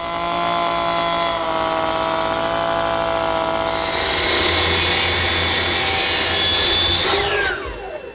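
A router with a half-round and cove bit cutting molding along wood stock, a loud steady high-pitched whine that grows harsher midway as the cut bites, then spins down at the end.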